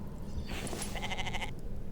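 A goat or sheep bleats in the video game The Infected, one wavering bleat heard at a moderate distance over a steady low ambient rumble.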